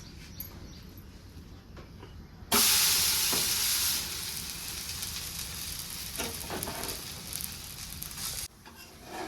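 Thalipeeth, a flatbread made with leftover vegetable curry, fries in oil on a pan with a loud, close sizzle that flares sharply partway through, then settles into a steady hiss before cutting off near the end.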